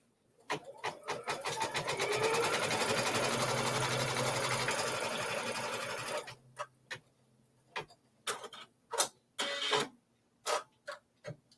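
A sewing machine stitches down quilt pieces for a stars and diamonds quilt, running in one steady whirring burst of about five seconds, then stopping and starting in a series of short, quick stitching bursts.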